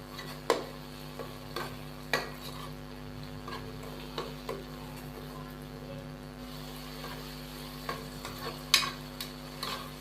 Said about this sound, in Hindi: तो यहाँ पे मैंने इसको अच्छे से मिक्स कर दिया है और अभी हम इसको मज़ीद 1 मिनट के लिए फ्राई कर लेंगे।